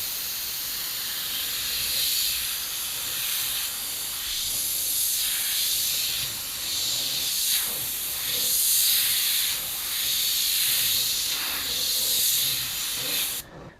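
An airbrush sprays paint at 35 psi onto fishing lures, a continuous close airy hiss that swells and eases slightly as the trigger is worked, before stopping at the end.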